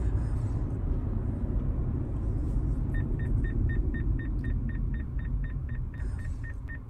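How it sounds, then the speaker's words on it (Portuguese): A Tesla's forward collision warning sounds as a rapid train of short, evenly spaced electronic beeps. It starts partway through and keeps going over a steady low road and cabin rumble inside the car. "Se ele detecta que você vai haver uma colisão frontal, ele dá um apito."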